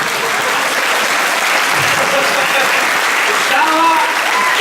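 A church congregation at a Sunday service breaks into sustained applause, a dense steady wash of many hands clapping, with a voice speaking over it and a few brief tonal sounds near the end.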